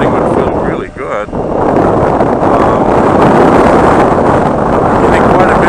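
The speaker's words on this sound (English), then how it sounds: "if I run it all the way down, I get quite a bit of wind" Strong wind buffets a BMW K1200LT motorcycle riding with its windshield lowered, a loud, continuous roar of rushing air across the microphone, with a brief lull near the start.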